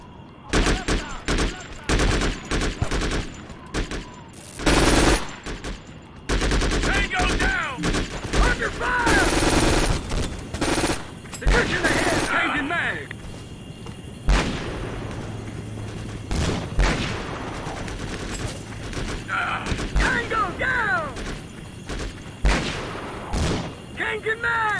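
Bursts of rifle and machine-gun fire rattle through a Breakout Conflict Global Storm firefight, with sharp close shots, rapid volleys and booming impacts over nearly half a minute, while voices shout over the shooting.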